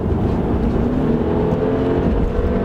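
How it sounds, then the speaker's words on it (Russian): An Infiniti Q50 engine drones steadily from inside the cabin, a low continuous hum with faint road rumble underneath. "Мотор слышно, слышно в салоне."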